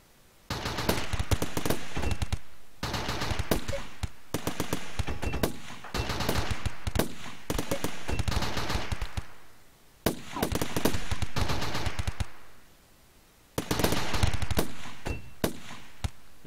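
Rapid automatic gunfire from weapons in the colony game Rimworld, several long bursts of fast shots separated by short pauses, loud and alone.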